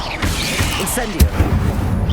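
An Incendio fire spell is cast in Hogwarts Legacy, a roaring whoosh of flame with a sharp burst partway through, layered over dense game effects and a few low thuds.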